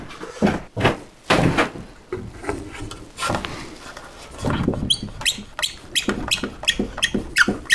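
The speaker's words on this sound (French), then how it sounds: "quand tu as fini, je t'ouvre la porte" A wooden door in a woodworking workshop opens with a series of knocks, thumps and rattles, then a fast run of lighter clicks and taps near the end, all close by.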